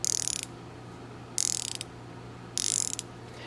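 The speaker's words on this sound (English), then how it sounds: "just know that it was me trying to showcase the ratcheting sound" Wera Joker 10 mm ratcheting wrench clicking through three separate bursts of rapid, crisp ratchet-pawl ticks, each about half a second long, with quiet pauses between them and a faint steady hum underneath.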